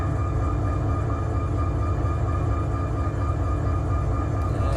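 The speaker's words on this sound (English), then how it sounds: "there's a train coming." Train approaching a crossing in the Run 8 train simulator game, a continuous loud low rumble with steady engine drone and no let-up.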